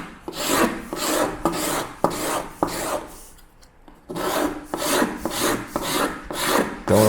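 A luthier scraping wood with a hand scraper, rhythmic close rasping strokes in steady repetition with a brief pause midway.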